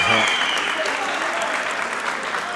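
Spectators at an All-Ireland softball handball men's doubles final give a loud, sustained roar and applause that fills the whole moment without pause.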